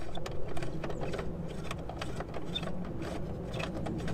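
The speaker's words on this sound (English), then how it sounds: "Take your socket here, get it started." Steady mechanical clicking of a socket wrench ratcheting on an air intake bolt of a Honda Pilot, a quiet, continuous run of small rapid clicks with no talking.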